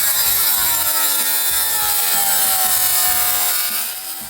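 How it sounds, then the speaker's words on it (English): A wet tile saw cuts a small kitchen backsplash tile, a loud, continuous grinding whine with rhythmic rasping pulses as the blade bites, fading slightly at the end. "This is where the saw goes on."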